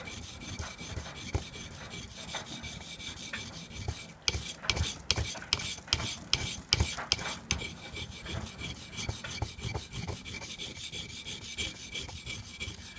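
A leather tool blade is worked up and down an oiled sharpening stone, giving soft rhythmic rasping strokes, quiet and close, with a brief run of sharper scrapes midway.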